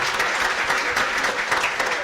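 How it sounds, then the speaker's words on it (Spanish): Church congregation applauding a sister, with dense, steady clapping from a large crowd filling the whole stretch at close range. "Un aplauso pues para la hermana"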